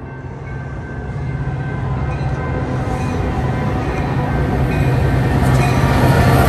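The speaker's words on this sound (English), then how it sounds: "Here comes the train." A Metra commuter train in downtown Berwyn rumbles steadily closer, its loud low roar building and filling the scene with rolling wheel noise.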